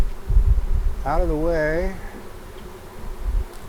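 Honey bees buzz during a hive installation, a steady low drone from nearby bees as frames are handled, with someone speaking briefly over it.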